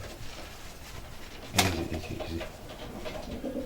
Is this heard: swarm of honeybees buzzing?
no